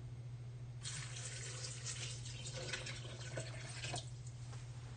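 Water poured from a measuring cup into a blender jar while making cashew milk in the kitchen, a steady splashing pour of about three seconds over a constant low electrical hum, close and fairly loud, with no talking.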